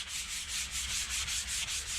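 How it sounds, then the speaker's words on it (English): Rhythmic back-and-forth scraping of a 220 grit sanding block on wooden furniture, a soft hissing rub repeated steadily about eight times, close and quiet. "we're just going to do a little light sand"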